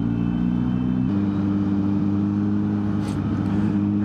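A Kawasaki Z900 motorcycle ridden slowly, its engine holding a steady, loud low idle-like rumble with a slight shift in tone partway through and no voices.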